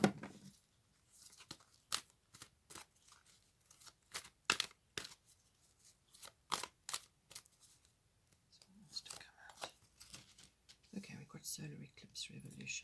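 Cards from an astrological tarot deck are handled and drawn, giving quiet close snaps, riffles and paper slides in irregular bursts, with soft speech in places.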